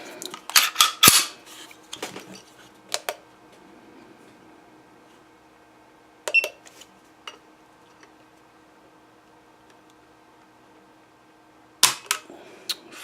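Crisp clicks from a flat-faced Apex trigger on a Sig P320 pistol: a cluster of sharp snaps near the start, then isolated single clicks at intervals with quiet gaps between, close and alone.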